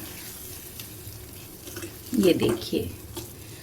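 Gram flour batter thinned with a little water is stirred in a pan, giving a brief wet scraping and sloshing burst over quiet background, with a short spoken remark nearby.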